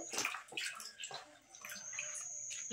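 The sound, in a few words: live snakehead fish splashing in water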